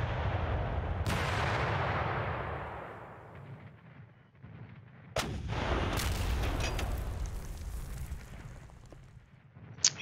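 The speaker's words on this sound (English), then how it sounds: "he's got some good artillery there" Artillery fire in the Panzer Campaigns Bulge 44 war game: a heavy boom with a long rumbling decay, then a second sharp blast a few seconds later, followed by further crackling impacts and a final brief crack.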